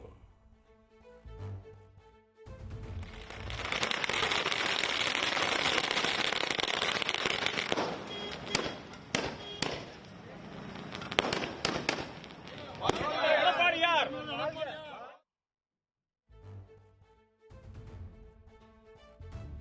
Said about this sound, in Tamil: அதிமுகவினர் பட்டாசு வெடித்து கொண்டாடினர்